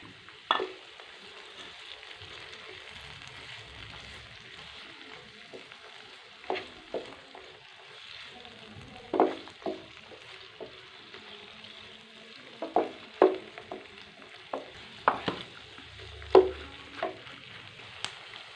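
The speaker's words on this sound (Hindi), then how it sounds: "अब एक बड़े साइज़ का कटा हुआ इसमें टमाटर डाल देंगे।" Chopped tomatoes fry with cooked onions in a pan for a breakfast of eggs with potatoes and tomatoes, giving a low steady sizzle broken by scattered scrapes and knocks of stirring, with no talk.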